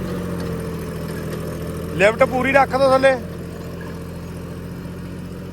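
Tractor engine idling steadily while pulling a mini rotavator in a field, a low constant drone throughout with a brief burst of speech over it midway.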